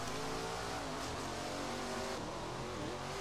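An SRX race car in a racing video game at Chestnut County Speedway revs hard with a continuous loud, raspy engine roar that rises and shifts in pitch, with no talk.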